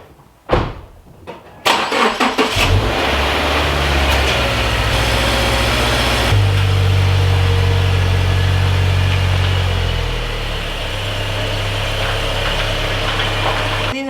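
A car that failed inspection is started after a few sharp clicks and knocks: the engine cranks, catches and settles into a loud, steady idle with a deep hum, dropping slightly in level near the end.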